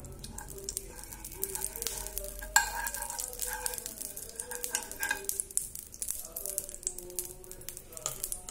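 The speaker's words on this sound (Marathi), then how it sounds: "आता तव्यावर थोडं तूप टाकते." Ghee sizzles softly on a hot tawa griddle where a vegetable cheese sandwich is being grilled, giving a quiet, continuous crackle broken by light scrapes and a small tap.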